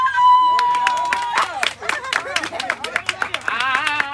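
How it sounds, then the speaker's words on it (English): A church congregation claps after a baptism, a quick burst of loud applause mixed with voices and cheers that settles into scattered, rhythmic claps. "Clap your hands for your friend."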